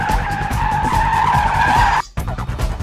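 A Mitsubishi Lancer Evolution X with an automatic gearbox launches hard, its tires screeching loudly and steadily for about two seconds before cutting off, followed by rougher engine and tire noise.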